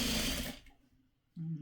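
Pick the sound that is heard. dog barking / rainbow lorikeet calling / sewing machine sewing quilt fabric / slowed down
sewing machine sewing quilt fabric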